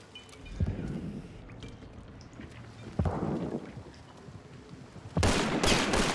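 Shotgun blasts in the Hunt: Showdown video game, a few sharp, loud reports spaced out over a muffled game ambience, with the last burst harsh and sustained.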